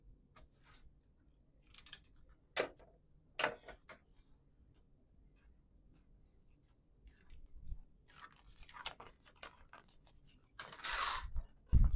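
Scissors snipping through a vinyl cutting machine mat, sparse crisp cuts and crunches spaced irregularly over quiet pauses, close and fairly faint, ending in a longer rasping cut and a final snip.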